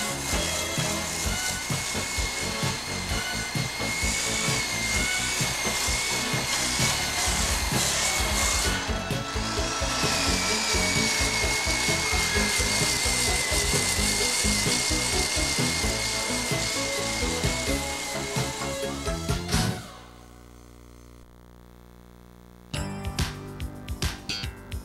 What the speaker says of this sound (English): Grind out at least 3 inches past the damage area